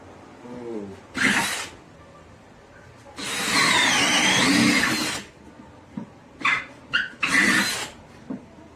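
A DEWALT 20V MAX brushless cordless hammer drill with a 1-inch Irwin Speedbor spade bit bores through wood in loud, close bursts, one long run followed by several short whirring pulses, with a dog barking briefly nearby.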